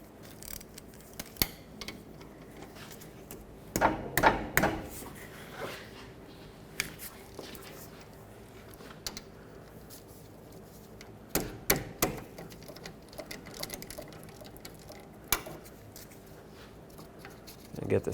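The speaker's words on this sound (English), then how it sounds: "With a 17mm socket, I'm going to remove the 2 bolts that hold the caliper onto the bracket" Ratchet clicks from a 17mm socket loosening the brake caliper bolts on a Chevy Express 3500 van, arriving in short bursts of rapid ticking with quiet pauses between, close by against a low background hum.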